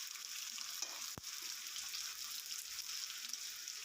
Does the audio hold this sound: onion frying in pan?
yes